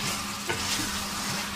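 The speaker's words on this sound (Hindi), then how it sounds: "अब हम इसको फ्राई करेंगे।" Chicken khara masala karahi fries in a pan with a close, dense hiss, broken by a brief scrape of stirring partway through.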